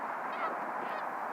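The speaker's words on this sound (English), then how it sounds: "We got some geese here today." Geese honk outdoors on a chilly November morning in West Michigan, a few harsh calls rising over steady ambient background noise, fairly distant and moderately faint, with no talking.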